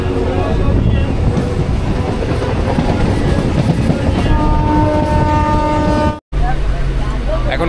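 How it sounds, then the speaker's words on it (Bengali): A passenger train pulls away from Sitalpur station's platform 1, its loud steady wheel rumble and clatter joined midway by a sustained horn blast, then a brief dropout near the end. "1 নম্বর প্ল্যাটফর্ম থেকে ছেড়ে যাচ্ছে আমাদের ট্রেন শীতলপুর স্টেশন থেকে"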